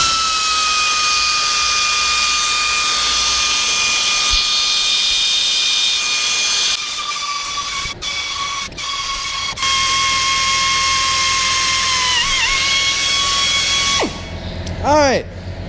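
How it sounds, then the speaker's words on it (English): A high-pitched pneumatic air drill whines steadily for several seconds, dipping briefly as it bites into half-inch steel plate, then winds down with a hissing release. "Figure we'll drill a hole here."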